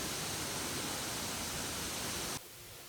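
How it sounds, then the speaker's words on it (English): Brandywine Falls, the tallest waterfall in Ohio, in Cuyahoga Valley, roars as a loud, steady broadband rush of falling water, then drops abruptly to a softer wash near the end. "the Brandywine Falls here is the tallest waterfall in Ohio"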